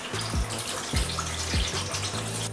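Salt water from a nano reef tank is siphoned through a tiny hose into a sink, a steady gurgling trickle with a few rhythmic glugging surges as air pockets pass, close by and with no voices.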